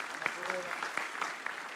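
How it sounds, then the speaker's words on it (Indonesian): An audience at a Padang Bulan religious gathering claps in a short burst, fairly faint and scattered, with talk over it. "Sekali lagi tepuk tangan untuk saudara kita"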